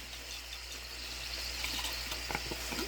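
Water poured from a shaken container into a pot of cowboy chili, a soft continuous splashing and trickle that builds slightly over a few seconds, close by with no talking.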